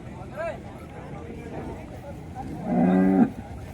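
A calf lets out a single short moo, close by and fairly loud, over a steady background of murmuring voices.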